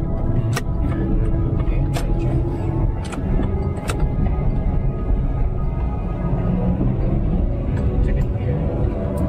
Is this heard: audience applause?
no